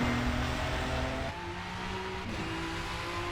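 A race car laps Sebring in late afternoon in rFactor 2, its engine droning steadily with shifting pitch as it shifts and holds speed, loud and close with no talking.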